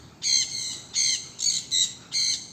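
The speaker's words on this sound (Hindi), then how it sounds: "येलो और ग्रीन कलर के हैं छोटे छोटे तोते, कितने सुंदर सुंदर तोते हैं।" Small yellow and green parrots in a bird park chirp in a series of five or six bright, rhythmic calls at moderate distance, with no talking.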